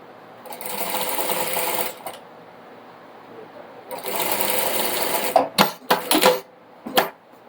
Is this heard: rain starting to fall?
no